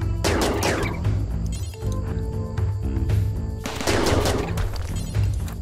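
Rapid bursts of gunfire in the RimWorld video game as colonists shoot at attacking turtles, loud dense volleys repeating over several seconds with brief gaps between them.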